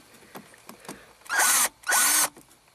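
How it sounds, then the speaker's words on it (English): A cordless screw gun spins in two short, loud bursts as it drives out steering column screws, with a few light clicks and handling taps beforehand, close up with no talking. "let me get my screw gun out here"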